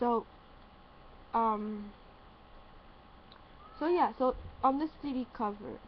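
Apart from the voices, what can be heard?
domestic cat meowing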